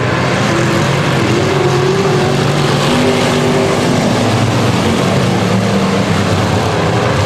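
Race cars roar around the 250 Speedway as a consi heat gets underway. Several engines drone loudly and continuously, with pitch rising and falling as the cars pass close by.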